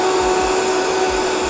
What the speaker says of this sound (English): And now for our Vitamix.